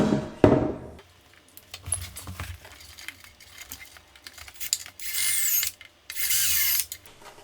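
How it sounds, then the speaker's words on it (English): Power drill boring pilot holes into wooden cabinetry for a sink tip-out tray, two short close bursts of whirring drilling after some handling clatter and clicks, with no talking. "we can drill our pilot holes"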